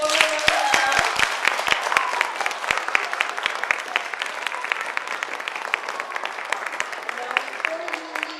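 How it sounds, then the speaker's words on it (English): Theatre audience applauding its young actors at the end of a children's show, a dense steady round of clapping with scattered louder claps, voices faintly mixed in. "Can we give our actors one more round of applause?"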